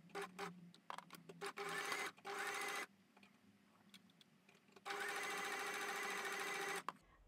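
A sewing machine with a straight stitch foot runs a half-inch seam on a fabric pouch in bursts, with short ticking stitches at first, then two longer steady runs separated by a pause, close and alone.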